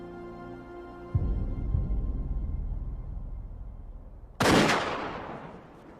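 Rifle fire during a buffalo hunt: a deep low boom thuds out and rolls on, then a sharper, brighter crack bursts later and decays into a fading echo, set against a quiet droning background.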